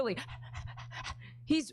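A man imitates a dog panting with quick, rhythmic breathy huffs in a short burst, set between bits of speech close to the microphone.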